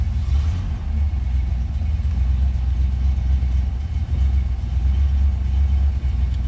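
An old Rover V8 car engine, restarted after sitting nearly 10 years, idles with a deep, steady rumble, loud and close, holding an even level throughout.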